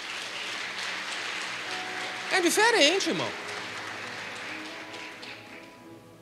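A congregation claps at a church service, a dense, even patter of applause running throughout at moderate level while someone speaks and briefly sings over it near the middle.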